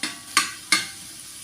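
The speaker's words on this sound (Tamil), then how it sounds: "அதில் நம்ம வெட்டி வச்சுருக்கிற மிளகாவை போட்டு அதுவும் நல்லா வேகிற மாதிரி நல்லா வதக்கி எடுத்துக்கிடணும்" Chopped chillies being sautéed in a pan, with a steady soft sizzle and two sharp spoon scrapes or stirs spaced evenly about a third of a second apart.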